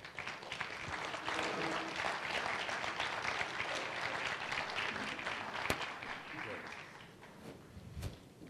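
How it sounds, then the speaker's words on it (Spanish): A seminar audience gives a speaker a sustained round of applause, a steady and fairly distant patter of many hands with a few sharper claps standing out. "Pido un aplauso para el doctor."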